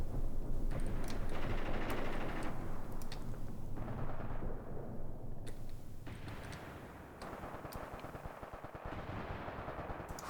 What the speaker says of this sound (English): I think I hear anti-tank rifles shooting.